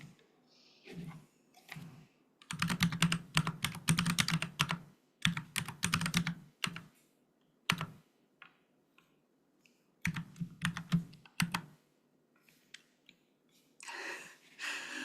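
Computer keyboard typing during geometry construction work, with bursts of rapid close key clicks broken by pauses and a few isolated single keystrokes, no voices.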